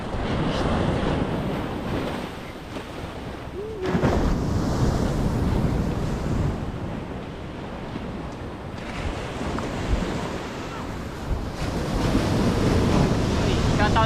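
Sea waves wash against a seashore in a steady broadband rush. Wind buffets the microphone throughout, and the surf swells louder in places.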